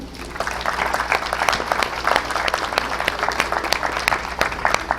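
Audience applause at a cultural event on ancient cultures of the Americas, greeting a communal lands delegation from San Jerónimo Acazulco; many hands clap in a dense, lively patter for five seconds with no speech over it.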